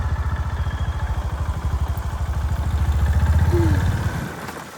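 A motorbike engine idles and revs with a steady low pulsing thump as riders set off from home, the note rising slightly before settling, close and loud with no talk.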